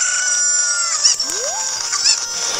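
A cuckoo, the chicken-like bird of The Legend of Zelda: Ocarina of Time 3D, gives clucking calls over steady game music, with one rising squawk partway through.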